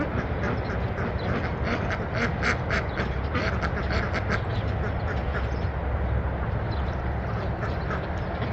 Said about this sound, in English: I want Mumbles to hear these duck sounds.